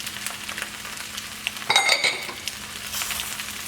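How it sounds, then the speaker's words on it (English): Bean sprouts tossed into a hot pan for fried rice, light sizzling with a sharp clatter of utensil on metal midway and soft scraping around it, no talking. "our last thing in the pan is going to be our bean sprouts. So mix those all in."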